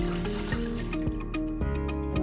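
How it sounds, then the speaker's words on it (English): A washcloth dipped into a bucket of water, close wet sloshing and trickling, with soft dripping and music-like tones beneath. "You're gonna dip it in the water."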